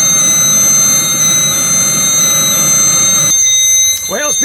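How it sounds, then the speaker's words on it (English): Several alarms on an 8 kW diesel heater beep in steady, high, piercing tones over the heater's running hum, which cuts out near the end as a voice speaks. "Many alarms at the moment. So many alarms."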